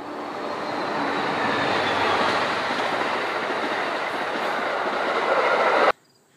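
A train rolls past close by, a loud, steady broadband rumble of wheels and rail noise with faint squeal that holds for about six seconds and then cuts off abruptly.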